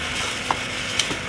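A handful of salt being stirred into water in a container, to be poured on chili plants; a soft, steady swishing with a couple of faint clinks.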